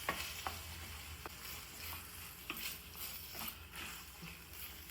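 Tomatoes frying with ginger garlic paste in a pan for paneer gravy, a steady low sizzle broken by repeated scraping stirs, close and moderately loud with no talking.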